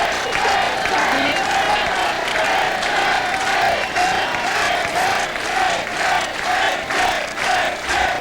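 A large crowd at a 1993 Canadian federal election rally cheers and claps, a loud continuous roar of shouts, whoops and applause with rhythmic swells, a commentator's voice faintly mixed in.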